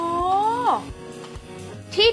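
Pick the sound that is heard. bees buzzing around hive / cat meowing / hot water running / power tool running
cat meowing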